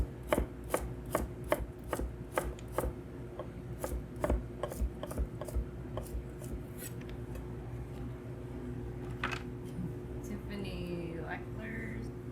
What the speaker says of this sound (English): So we'll chop up one of these.